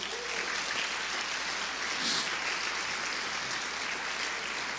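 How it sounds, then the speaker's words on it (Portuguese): Steady applause from a church congregation during a Portuguese-language sermon, a dense, even wash of many hands clapping that holds at a constant level throughout without pause. "Aplauda o nome dele."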